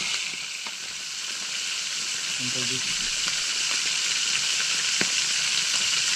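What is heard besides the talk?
food frying in a pan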